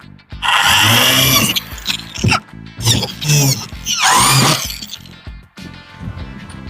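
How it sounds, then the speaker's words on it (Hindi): Power screwdriver driving 1-inch screws straight into an aluminum louver door without pilot holes, with several loud whirring bursts of the drill separated by short pauses. "मैं डायरेक्ट स्क्रू लगा रहा हूँ 1 इंच का, इसमें सुराख करने की ज़रूरत नहीं पड़ेगी"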